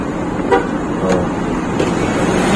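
A car horn toots briefly a few times, short beeps over a steady engine and road hum, heard inside the cabin of a 2021 Toyota Innova Reborn 2.4 diesel automatic.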